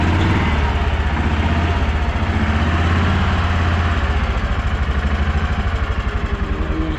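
A 2016 Kawasaki Mule utility vehicle engine runs at a steady, loud, close idle with an even low throbbing pulse and no talking throughout.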